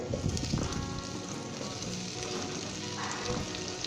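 Cauliflower and potatoes hit hot frying spices in a pan for Bengali aloo gobhi, giving a steady, close sizzle and crackle that runs unbroken throughout.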